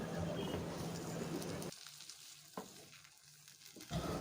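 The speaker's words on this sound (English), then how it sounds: "So now I'm just going to stir it this way to loosen it a little" Spaghetti jollof is stirred in a pot, with loud sizzling and scraping at first that drops to quieter stirring and a few sharp knocks of the spoon.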